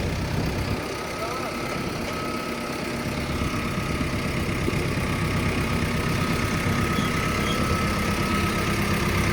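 A low tractor engine idles steadily throughout, a continuous rumbling drone with faint voices in the background.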